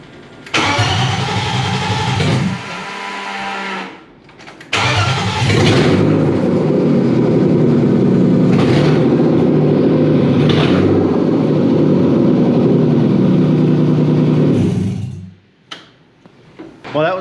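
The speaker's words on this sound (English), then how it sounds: "So it fires up on its own." A BMW M52 engine swapped into an E36 318ti cranks briefly, pauses, then fires up and settles into a loud, steady idle through an open manifold before cutting off, with faint voices near the end.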